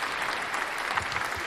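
Crowd applause sound effect, a brief burst of many hands clapping in a dense, even wash that stays loud and steady without any other sound standing out.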